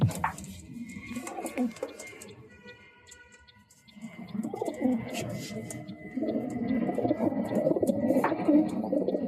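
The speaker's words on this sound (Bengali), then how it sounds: "দেখুন পায়রাগুলোকে ছাড়ছি আমি ফিমেলটাকে তারপর মেল ফিমেলের মস্তি দেখুন" Pigeons, a semi-adult pair just let out, coo in low, soft repeated phrases that grow fuller and steadier in the second half, with brief light chirps and clatter above.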